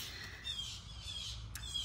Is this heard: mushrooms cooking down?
no